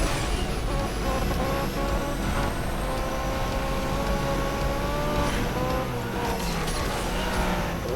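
A Rimac Nevera race car drifts in Asphalt 8 with a steady electric motor whine, tire noise and game sound effects, accompanied by a constant dense background of game music.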